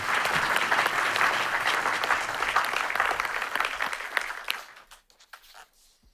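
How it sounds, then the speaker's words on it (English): An audience at a security forum breaks into full, dense applause that holds steady, then thins to a few scattered claps and fades out. "if I could have a round of applause"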